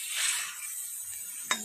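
Spice masala roasting in hot oil in a pan for chicken shawarma, a dense hissing sizzle that swells briefly at the start, then a single sharp metallic clink near the end.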